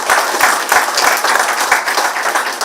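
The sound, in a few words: audience applauding the party's high councillors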